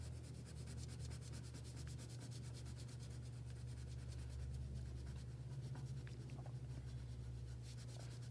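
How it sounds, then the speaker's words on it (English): A colored pencil rubs steadily back and forth on paper, burnishing the color with a continuous close scratchy stroking sound over a low background hum, and no one speaks. "Burnishing the color means that you color until it's quite shiny"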